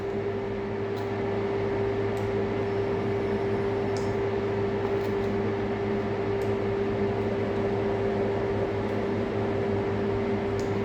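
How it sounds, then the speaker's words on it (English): A machine hums steadily with a constant tonal drone and faint clicks while being hand-jogged into its cutting start position, close and unchanging throughout. "we're going to hand jog the machine into position where we want the cutting to start at"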